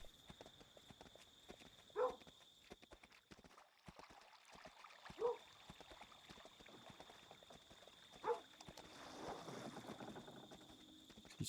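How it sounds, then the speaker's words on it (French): A horse's hooves clip-clop in the video game Kingdom Two Crowns, heard in a few soft, evenly spaced bursts over a quiet ambient backdrop. "il y a le cheval qui a repop de l'autre île"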